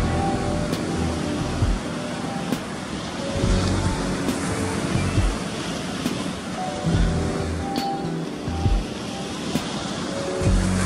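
Ocean surf breaking at a home surf point, waves peeling from the middle toward the inside, with a steady broad wash that swells and recedes in repeated surges, close and fairly loud with wind over the microphone.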